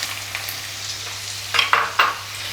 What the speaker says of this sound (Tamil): அடுத்ததாக நம்ம இதில் வெங்காயம் சேர்த்து போகிறோம்